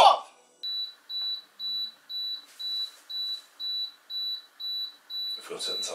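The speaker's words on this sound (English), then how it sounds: "We've got to turn the timer off." A kitchen timer beeps in a steady run of about a dozen evenly spaced electronic pulses, with a voice briefly at the start and end.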